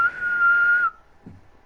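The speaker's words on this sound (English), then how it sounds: "you don't know how to whistle, do you?" A person whistles a single steady, clear note for under a second, close and fairly loud, then stops, leaving quiet room noise and a soft low thump.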